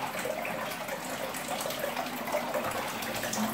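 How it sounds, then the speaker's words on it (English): Water gushes steadily into a walk-in bathtub as it fills, a close, continuous rushing and splashing flow with no voices. "that can be filled right up to this drainage right after there while the person's sitting in it."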